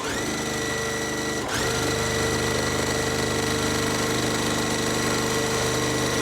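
A sewing machine runs steadily through a quilt block seam, a continuous close, even mechanical whir with a faint rhythmic stitching pulse and a brief hitch near the start, with no talk.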